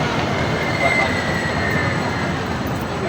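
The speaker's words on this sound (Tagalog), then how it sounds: "sa MRT kami yun, tapos rush hour" Bangkok MRT metro train during rush hour, a loud steady rumble of wheels on rails with a thin high squeal running through it, heard from on board.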